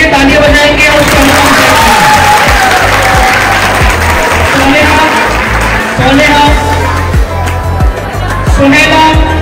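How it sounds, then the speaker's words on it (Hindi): Schoolchildren at a Teachers Day program clap loudly for a classmate, with a dense crowd applause and some scattered shouts. "तमाम बच्चे अब्दुल रेहान के लिए तालियां बजाएंगे"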